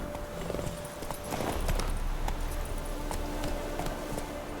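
Horse galloping in The Witcher 3: Wild Hunt, a rapid, steady run of hoofbeats on the ground with background ambience of the game world and no talking.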